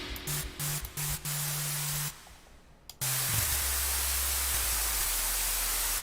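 Synthesized white noise layered with a low sine sub in E, from a dark cinematic music production: a few pulsed low tones with hiss, a pause, then a loud sustained wash of bright noise over a steady deep sub.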